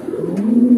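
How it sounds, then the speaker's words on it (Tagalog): Racing pigeons give a close, soft, throaty coo, a single low rolling call that swells slightly over less than a second, with no talk. "Bumungad na agad sa atin yung ating mga ibon."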